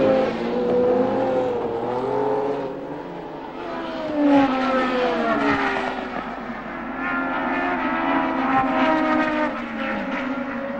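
Engines of 1970 Formula 1 race cars, among them Jochen Rindt's Lotus 72 and Brabham's car, at the British Grand Prix wail and rise in pitch as they pass. The loud, continuous high revving fades and swells over nearly eleven seconds.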